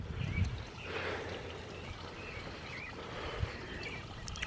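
Surface water runs along a dug drainage trench beside open farm tile, a soft continuous trickle and gurgle outdoors with a faint low rumble and a few small bumps.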